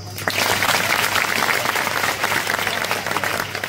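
Audience at a student union annual conference claps hands in welcome, a dense, steady burst of applause with a low electrical hum underneath, sustained throughout.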